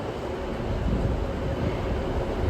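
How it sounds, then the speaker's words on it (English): Two Class 90 electric locomotives haul a freight train past at Carlisle station, a steady loud rumble of wheels and wagons rolling through without pause. "2 class 90s with the freight train."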